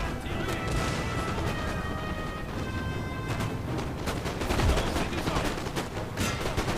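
Canister shot artillery fires in Napoleon Total War, with loud, crashing blasts and rattling impacts that repeat in bursts over continuous battle noise, strongest near the end.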